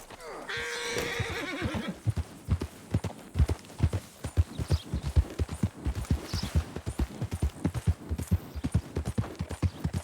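Horse hooves clip-clop at a steady, rhythmic gallop in Red Dead Redemption 2, loud and close, with a horse's whinny near the start and no talking.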